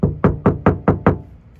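Six evenly spaced knocks land on the untreated door panel of a 2021 Nissan Titan, each a hollow, resonant thump with a short ringing decay, loud and close.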